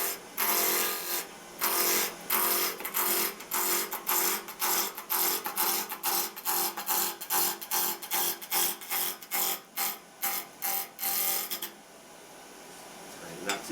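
A wooden handle spinning on a lathe near 2,588 rpm is cut with a spindle gouge, giving loud rhythmic scraping and rasping passes in a repeated pulsing pattern close by, then a quieter stretch at the end.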